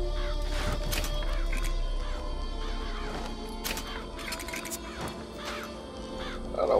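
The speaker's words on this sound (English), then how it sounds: "Press to summon murderous crows." Murderous crows from BioShock Infinite cawing and attacking, a flurry of harsh caws over a low game rumble with crashing impacts, fairly loud and without speech.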